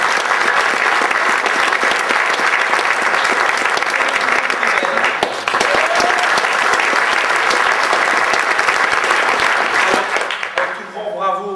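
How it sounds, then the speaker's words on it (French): A theatre audience applauds the actors of a comedy stage play, sustained loud clapping that fills the hall for about ten seconds before thinning out. A voice comes in faintly near the end. "Vous avez pu applaudir Serge Leyens."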